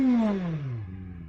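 A 2026 QJ Motor SRK 450 motorcycle engine drops from a high rev, its pitch falling smoothly over about a second, loud and close with no voices.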